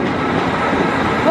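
A Class 158 diesel unit pulling out of Leeds station, giving a loud, steady rumble and rushing roar from close by, with a faint rising squeal near the end.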